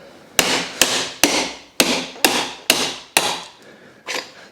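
A 1.3 kilogram hammer strikes a metal rod eight times in a steady rhythm, each loud, sharp impact ringing briefly close by.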